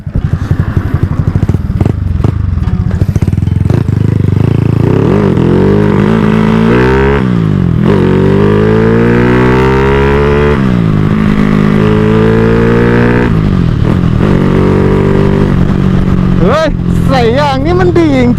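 A motorcycle fitted with new tires rides along, its engine loud and close, revving up and down through gear changes with rising and falling pitch, wind and road noise constant, a voice briefly audible near the end.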